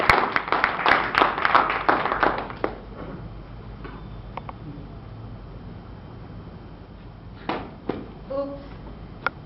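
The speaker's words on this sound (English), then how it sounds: "round of applause" Audience applause for a Toastmasters speaker, a few seconds of fairly close clapping that quickly thins into scattered claps and quiet room noise.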